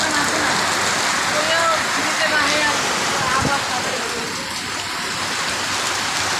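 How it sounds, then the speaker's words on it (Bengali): Spring Chaitra rain pouring steadily, a dense, even hiss of drops on surfaces that stays loud and unbroken throughout, with no speech. "অদ্ভুত চৈত্রের বৃষ্টি"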